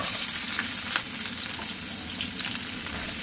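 Chopped onion hits hot oil with whole cardamom and cumin, frying in a steady, close sizzle with a few brief stirring clicks, no voices.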